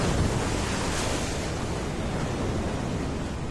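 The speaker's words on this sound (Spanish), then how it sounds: "Hombres, animales y plantas sufren la violencia del viento y del mar." Hurricane wind roars steadily with crashing sea waves, a loud, dense and unbroken rush of noise with no voices.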